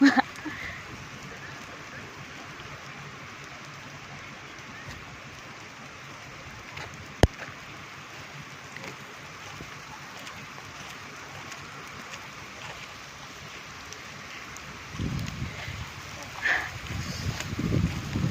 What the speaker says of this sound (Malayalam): മഴ കൊണ്ടു ഫ്രണ്ട്സ്, മഴ കൊണ്ടു.